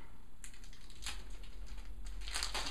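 Plastic wrap crinkles and tears as a boxed deck of cards for the board game Miskatonic School for Girls is unwrapped, a few close crackling bursts over a steady background hum, with no talk.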